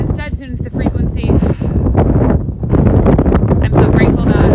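Gusty outdoor wind buffets the microphone in loud, rumbling bursts, nearly constant across the moment and layered under a person talking.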